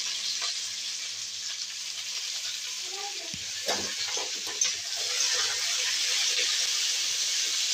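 Flat beans (shim) sizzle and fry in a pan for a winter vegetable chorchori, a steady close hiss with a brief clatter of stirring partway through, then the frying grows slightly louder.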